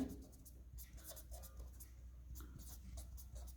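Marker or chalk scratching and tapping on a classroom board while writing out a chemistry mechanism, quiet and close, in short irregular strokes over a low steady room hum.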